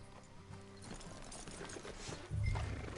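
Horses in Red Dead Redemption 2 clip-clop along with hooves thudding steadily under game music and ambience, with a brief whinny and a louder low rumble near the end.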